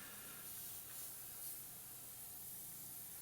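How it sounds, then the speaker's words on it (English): Airbrush spraying red water-based paint, a soft continuous hiss with slight swells, faint and close, with no voices. "So starting off with red, so Trident airbrush paint, I'm just going to loosely map in the flow of the fire"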